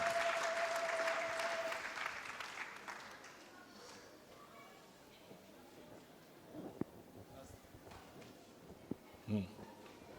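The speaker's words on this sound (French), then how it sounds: "Applaudis les rois des rois." Congregation applauding in a church, dense clapping loudest at the start and fading over several seconds into a quieter room with scattered knocks and a brief voice near the end.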